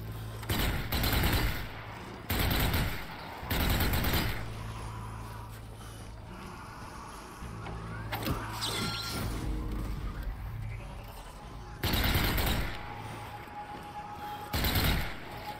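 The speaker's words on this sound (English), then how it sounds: "Gun turret here." A gun turret fires in the zombie shooter game Zombie Army 4: Dead War, with repeated loud bursts of rapid gunfire separated by quieter stretches of rumbling game ambience and clatter.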